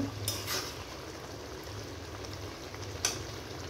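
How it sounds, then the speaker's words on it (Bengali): Prawns frying in a pan on a gas stove, a continuous soft sizzle and bubbling hiss throughout, fairly quiet and steady with a couple of faint clinks. "এবার আমি চিংড়ি মাছগুলো দিয়ে দেব, চিংড়ি মাছগুলো দিয়ে দিলাম। এবার ভালোভাবে কিন্তু আর একটু জাল দেব"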